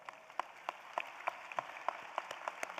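At a spring nursing college commencement ceremony, an audience breaks into applause: a faint, fairly sparse crowd clapping with distinct individual claps over a steady background.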